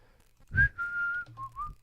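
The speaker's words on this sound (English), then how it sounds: "I shouldn't whistle into the mic." A person whistles a few short, bright notes close into a microphone, one rising tone then a held pitch and two quick lower notes, alone without speech.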